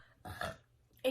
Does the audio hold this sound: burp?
yes